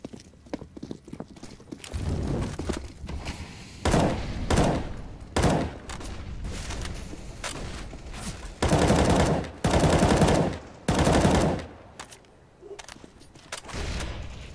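Gunfire in the video game CS:GO during a competitive esports league match sounds as rapid automatic bursts and sharp single shots in uneven clusters, with quieter game noises between volleys.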